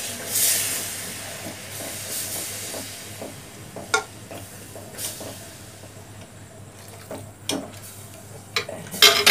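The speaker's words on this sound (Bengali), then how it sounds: "দুধ মিশিয়ে নেড়ে দিতে হবে।" A utensil stirs milk into a yogurt mixture in a bowl, giving scattered clinks and scraping taps against the bowl at an irregular rhythm, close and moderately quiet.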